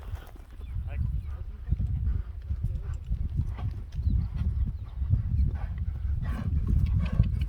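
Hooves of a six-year-old horse clip-clop on the ground amid strong gusting wind, an uneven close rumbling thud with voices nearby.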